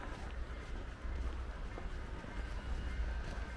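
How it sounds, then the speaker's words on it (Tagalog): Train approaching during a snowstorm, a low steady rumble with faint rail rattle heard from a distance. "The train is coming now soon."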